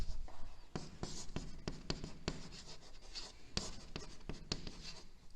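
A teacher writes on the board in a geography class, giving a quiet run of quick scratching and tapping strokes at an uneven rhythm, close and soft, without talk.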